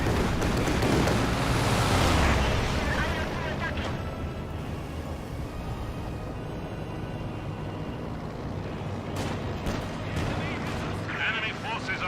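Battle noise from Company of Heroes 2, with MG34 machine gun fire suppressing conscripts amid tank and artillery action, a dense steady rumble of gunfire and blasts running throughout beneath ongoing commentary.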